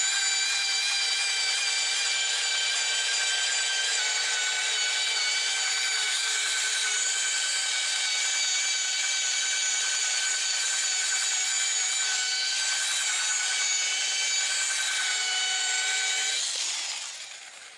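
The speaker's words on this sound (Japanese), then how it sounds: "3M のハードワンを使用してポリッシャーでの磨きで仕上げます" A polisher loaded with 3M compound buffs the body of an F56 MINI Cooper, giving a steady, loud, high-pitched whine that holds evenly and then spins down at the end.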